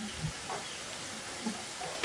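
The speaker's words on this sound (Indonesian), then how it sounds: "Kalau sudah panas kita masukkan kentang yang sudah tadi kita potong-potong. Kita goreng sampai nanti kentangnya mateng." Cut potato pieces fry in hot oil, a steady soft sizzle and hiss with faint bubbling and occasional stirring knocks, heard close but fairly quiet with no talking.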